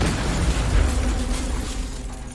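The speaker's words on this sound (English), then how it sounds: "The bombs detonate upon opening." A package bomb detonates in a loud, dense blast, then a rumbling roar that slowly fades over a couple of seconds.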